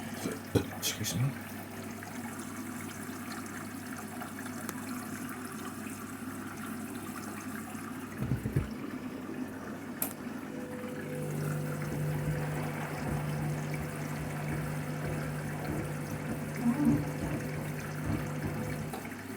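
A Candy washing machine on its duvet and quilts cycle fills with water, a steady low hum and trickling wash running continuously with a brief clunk midway, the tone shifting as more water enters.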